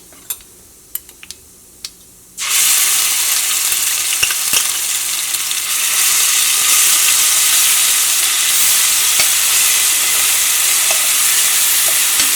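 Ginger garlic paste hitting hot oil in a pan on low heat for a chapathi curry, a loud steady sizzle and hiss that starts suddenly after a few faint taps and runs on unbroken.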